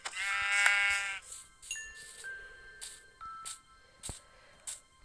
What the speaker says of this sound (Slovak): Ovca, choď preč.